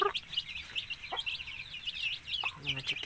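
Motherless baby chicks, left behind while still eggs, cheeping in quick high repeated peeps, close and fairly loud, with a low background murmur.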